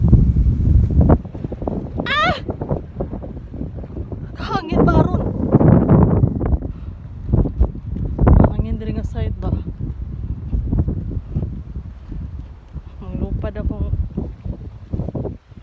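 Steady wind in Russia buffeting the microphone with a low rumble throughout, while a voice talks over it intermittently.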